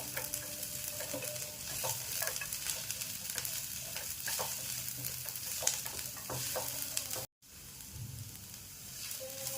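Garlic, ginger and cashews roasting in a pan for veg kolhapuri, a continuous close sizzle with frequent spatula scrapes and stirring clatter, briefly cutting out near the end.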